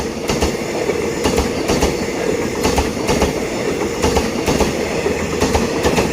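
Rhythmic clickety-clack of train wheels rolling over rail joints, steady and loud, with a constant rumbling roar underneath and no talking.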